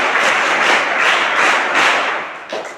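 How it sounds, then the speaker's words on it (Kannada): Students in a classroom applaud a classmate, a dense burst of steady clapping from a group lasting a few seconds, close and fairly loud, tapering at the end. "ಒಂದ್ಸರಿ ಅವನಿಗೆಲ್ಲ ಚಪ್ಪಾಳೆ ತಟ್ಟಿ"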